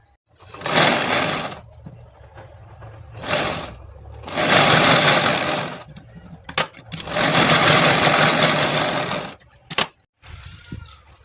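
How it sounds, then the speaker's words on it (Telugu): A sewing machine stitches a double-folded fabric belt for a blouse, running in loud close bursts of rapid whirring separated by short pauses, with small clicks between runs. "నేను ఈ సైడ్ ఒక కుట్టు మళ్ళీ ఈ సైడ్ ఒక కుట్టు పెడతాను అనమాట చూడండి ఇప్పుడు కుట్టేటప్పుడు"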